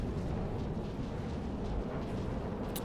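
Continuous rumbling underwater torpedo explosions in the video game From the Depths, anti-torpedo torpedoes intercepting incoming ones; a steady, heavy low roar with little variation, no speech.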